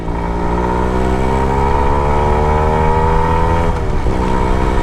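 A Suzuki Max 100R motorcycle engine revs loud and close, its tone climbing steadily through the gears, dipping briefly at a shift near the end before pulling on.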